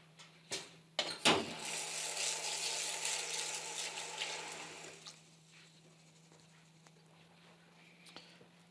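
French green lentils covered in water and shaken around, giving a steady sloshing, rattling wash up close after a few knocks, fading out to quiet with occasional small clicks.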